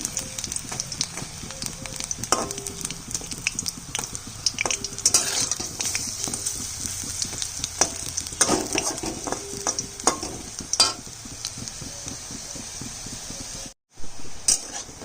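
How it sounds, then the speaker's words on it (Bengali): Lentil fritters fry in hot mustard oil in a wok, with a continuous sizzle broken by frequent metallic scrapes and clinks of a spatula stirring and turning them, then a brief gap of silence near the end. "বড়িগুলো ভাজা হয়ে গেছে।"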